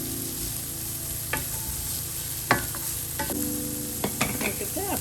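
Celery and beetroot stems sautéing in a pan, a soft steady sizzle with a few scattered clinks and scrapes of stirring, close and alone without talk.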